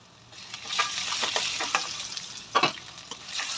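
Onion, green chilli, dried chilli and garlic fry in a pan with a steady close sizzle, broken by repeated stirring scrapes and a louder clatter near the end; no one speaks.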